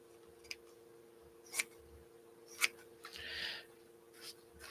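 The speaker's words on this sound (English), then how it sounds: "So let me cut a hunk of this out." Scissors cutting a piece of quilting fabric for a landscape quilt, a few quiet, sparse snips spread across a mostly silent room.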